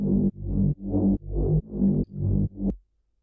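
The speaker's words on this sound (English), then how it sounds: "Now the function of this tone layer is to add some extra mid-range grittiness." Synthesizer bass tone layer with gritty mid-range, playing a steady run of seven loud, evenly spaced sustained notes with sharp cutoffs, then silence.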